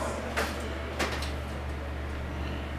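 Doors of an Otis traction shuttle elevator sliding shut, two short soft thumps from the door mechanism over a steady low machine hum.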